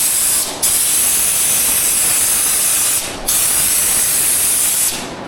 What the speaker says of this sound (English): He's doing a good job spraying it. Nice mist.